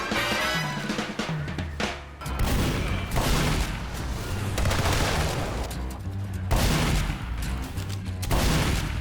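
Repeated explosions from pumpkin bombs in Team Fortress 2 during a Halloween event: a dense run of loud, booming blasts in quick succession over constant battle noise, with no pause between bursts.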